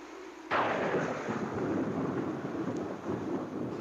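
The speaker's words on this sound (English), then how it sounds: "Looks like a storm" A loud, sudden rumble of thunder from an approaching storm breaks in after a brief quiet and rolls on steadily, close and heavy, with no talk over it.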